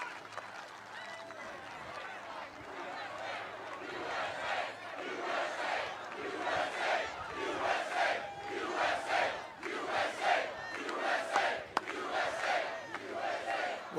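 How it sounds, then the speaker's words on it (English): A large political rally crowd in Wisconsin cheers and shouts continuously, a dense swelling roar of many voices with rising and falling bursts, loud and sustained throughout. "What an incredible crowd."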